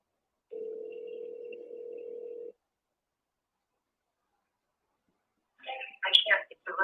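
On an outgoing phone call, a single steady ringback tone hums for about two seconds and stops. A stretch of silence follows before a voice starts talking.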